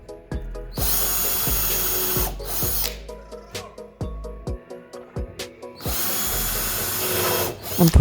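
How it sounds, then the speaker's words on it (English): A power drill whirs in several bursts, pre-drilling wood, each spinning up and winding down, with clicks and light knocks of wood and tools between them. "I'm pre-drilling so I make sure that I don't split any of the wood pieces."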